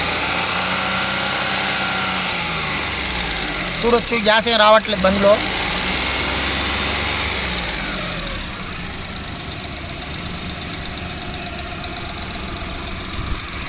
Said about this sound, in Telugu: ఇంజన్ సౌండ్ వినండి ఫ్రెండ్స్, స్మూత్గా ఉంది